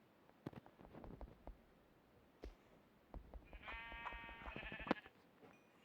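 Sheep in the video game Minecraft give a bleat near the end, preceded by scattered clicks and taps of gameplay, all fairly quiet.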